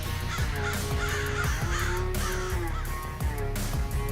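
Several crows caw repeatedly in harsh bursts, overlapping calls close by, over a steady background hum.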